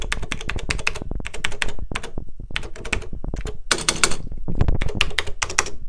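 Someone types on a BBC Master computer keyboard, close and crisp, with bursts of solid, clacking keystrokes broken by short pauses.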